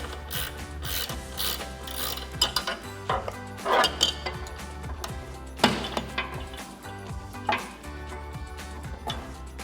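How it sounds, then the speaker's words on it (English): 13mm ratcheting wrench tightening a bolt on a BARDE front bumper for a 2018-2020 Ford F-150, close, quiet rapid ratchet clicks in short bursts with metallic rubbing and clanks between them. "And then we can get a 13mm wrench and 13mm ratcheting wrench to tighten that down."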